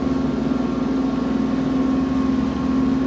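An Iseki TLE3400 compact tractor engine runs steadily in lowest gear at a constant low drone, close by, with no pauses or talk.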